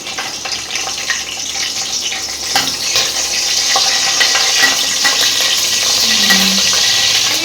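Green chilies sizzle in hot ghee with bay leaf and whole spices for gongura chicken pulao, a loud continuous frying hiss close up, with a brief clatter partway through.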